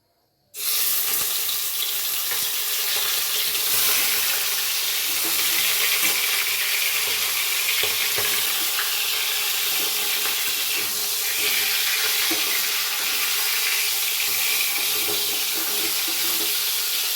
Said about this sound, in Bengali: কড়াইতে প্রথমে অল্প তেল গরম করে নিয়ে আমি মুরগিগুলো একটু ভেজে নিচ্ছি